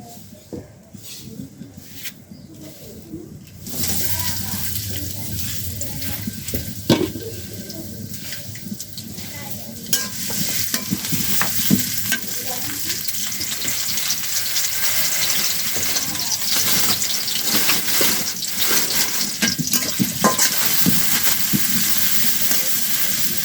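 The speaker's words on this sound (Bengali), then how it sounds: "তো এখন হলো মাছ রান্না করবো।" Fish frying in a pan in a home kitchen gives off a continuous close sizzle and crackle that grows louder after a quieter start, with bursts of running tap water and clinks mixed in.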